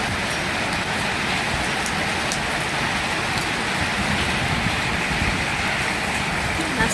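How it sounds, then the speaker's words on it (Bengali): Rain falls at night during a thunderstorm, with the road only starting to get wet. The downpour is a close, even, continuous hiss that stays at one level throughout, with no voices. "এই যে বৃষ্টি হচ্ছে"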